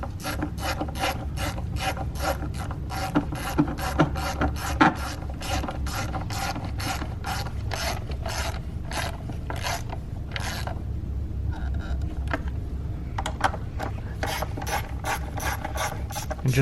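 Hand ratchet clicking steadily while tightening valve cover bolts on a Ford Fusion, rapid close metallic pawl ticks in bursts with short pauses, no talk.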